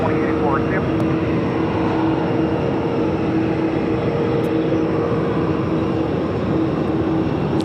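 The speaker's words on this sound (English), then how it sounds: "Delta A330-300 coming up from Atlanta, Georgia." A Delta Airbus A330-300 airliner arriving at Phoenix airport, its steady engine roar filling the scene at constant loudness with tonal hum, while a person talks over it.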